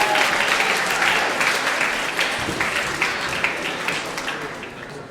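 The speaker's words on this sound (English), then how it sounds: "Can we have another round of applause for James Thornhill, please" Applause for James Thornhill at a student union election results night, a sustained round of clapping from a sizeable crowd, loud at first and slowly tapering over five seconds, with a few scattered voices underneath.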